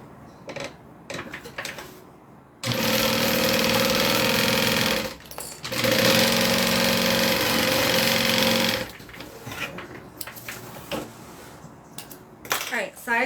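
A sewing machine stitching the sides of a piece runs in two loud, steady bursts of rapid whirring, with a short pause between them, framed by quieter handling clatter and talk.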